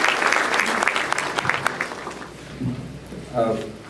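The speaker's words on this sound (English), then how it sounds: "that applause was for Dr. Rios" Audience applause at a white coat ceremony, dense clapping that fades over a few seconds as a voice begins to speak.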